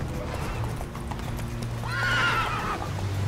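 Hooves clip-clop steadily as a horse gallops in The Witcher 3: Wild Hunt, then a loud, close whinny rises over the rhythm with game music underneath.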